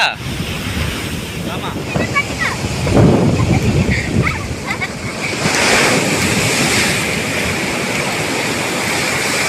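Sea waves washing onto a beach with steady surf and wind rumble, the breaking swells swelling louder midway and continuing throughout, with no clear speech over them.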